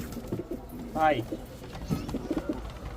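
Lahori pigeons coo softly nearby in short murmuring bursts, with one sharper fluttering call partway through amid quiet background noise.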